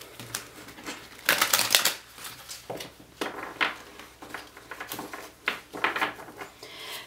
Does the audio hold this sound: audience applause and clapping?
no